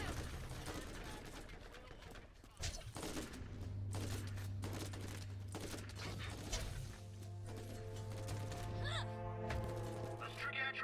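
Serpens gun firing in the Borderlands 2 video game, a mix of sharp cracks and bursts of shots scattered through a busy battle, with sustained tonal hums and voices talking over the fighting.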